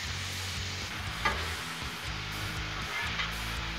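Ribeye meat, peppers and onions sizzle on a hot griddle, a steady close hiss broken by a couple of brief scraping ticks.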